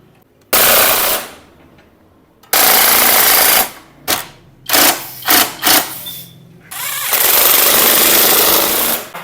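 An impact wrench tightens bolts on a 70cc motorcycle rear shock, firing in loud rattling bursts: two long runs, a string of short stuttering hits, then another sustained burst.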